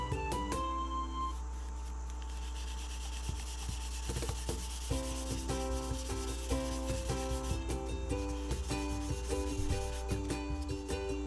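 Hand sanding of a painted surface with a wood-backed block, a steady rubbing scrape repeated continuously and close by, over a droning background with music-like tones and no talk.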